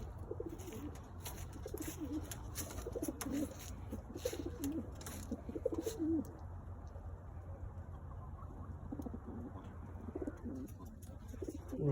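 Pigeons coo softly and repeatedly at a nest with baby birds, low rolling calls close by over faint background noise and occasional rustling.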